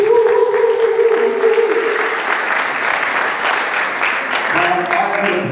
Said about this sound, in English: Can I get a round of applause for Michael Weiss